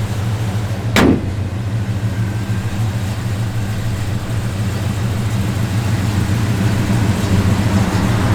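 A 1972 Chevrolet C10 pickup engine with a cam idles steadily with a deep, even rumble, and a brief sharp click sounds near the start.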